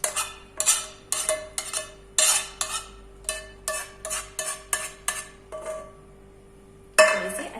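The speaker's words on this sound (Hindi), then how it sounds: "और अब हम इसे प्लेट के अंदर निकाल लेते हैं" Caramelised sugar paste scraped out of a pan onto a plate with a utensil, a run of sharp, close metallic scrapes and clinks in an uneven rhythm, about a dozen strokes, then a brief pause and a final scrape.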